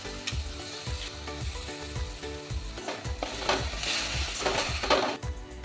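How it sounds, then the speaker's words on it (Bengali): Tomato paste frying with spice paste in a pan as it is stirred, a thick sizzle under repeated rhythmic scraping strokes of a spoon, close and continuous. "টমেটোটাও আরেকটু কষে নেব।"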